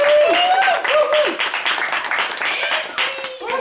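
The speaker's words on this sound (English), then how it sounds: "Can we clap for HF first?" An awards-show audience claps for HF, a steady, close burst of many hands applauding that continues throughout, with voices and whoops mixed in.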